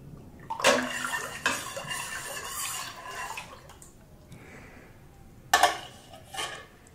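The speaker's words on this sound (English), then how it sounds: "Let's go ahead and give that a little stir." Lemon juice is stirred into Chardonnay wine must made from concentrate, giving intermittent liquid swishes and sloshes in a vessel with a couple of sharper splashes and quiet gaps between them.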